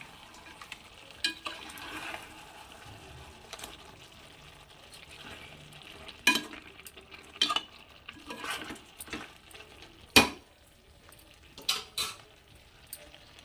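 A ladle stirs country chicken curry in a pot, producing quiet intermittent scrapes and sharper metal clanks over a faint simmering hiss, with irregular spacing and a louder knock near the end.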